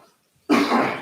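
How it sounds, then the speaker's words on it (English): A single cough from a person recovering from COVID, heard after a brief near-silent gap as one close, loud, rough burst that trails off over about half a second. "Still got a little bit of a teeny cough from the old COVID"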